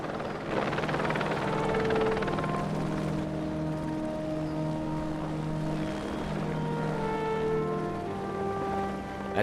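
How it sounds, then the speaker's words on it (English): A rescue helicopter passes overhead with a faint, continuous whirring drone, and long sustained tones are layered over it. No one speaks. "Then the helicopter kind of flies overhead"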